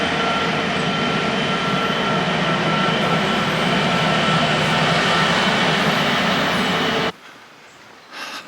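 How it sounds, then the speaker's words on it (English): A freight train on the line beside the Chesterfield Canal near Staveley ironworks roars past loud and close for about seven seconds, wagons rumbling continuously, then cuts off abruptly to near quiet with a faint distant sound at the end. "Oh, that's why it sounded like a goods train."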